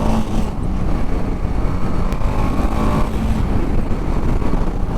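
A BMW G310 RR motorcycle in sports mode runs at a steady engine drone at around 80–90 km/h on an open road, with wind and road rumble mixed in and no talk.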